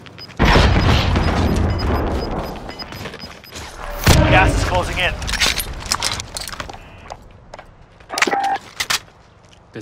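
Video game gunfire rattles in dense bursts and booming shots, loud and close. A second flurry of shots comes near the end, over a busy mix of in-game effects.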